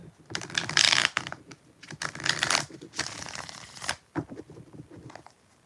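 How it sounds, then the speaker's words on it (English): Tarot cards are shuffled close up in quick papery riffles and rustling bursts, three longer flurries followed by softer taps and slides. "I gotta do one more shuffle"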